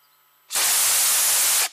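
A solid rocket motor ignites inside an altitude chamber simulating 76,500 feet: after near silence, a sudden, loud, steady roaring hiss bursts in, holds for just over a second, then cuts off sharply.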